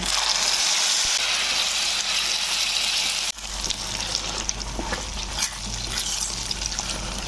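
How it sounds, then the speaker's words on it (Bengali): Spice paste of cinnamon, fennel, chili and bay leaf sizzles loudly in hot oil in a pan, a steady intense frying hiss that drops slightly after a few seconds and continues with stirring scrapes. "এবার আমি পেস্টটা ঢেলে দিলাম"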